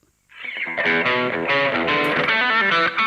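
A bright, crisp electric guitar through an amp modeler plays a short strummed chord phrase with a slightly driven, processed tone, ringing on clearly without any talking.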